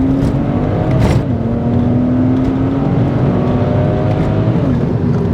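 A BMW 1 Series (130i hatch or 135i coupe) accelerates hard in second gear under full throttle, a loud sustained engine drone rising steadily in pitch from start to finish with a brief dip near the second second.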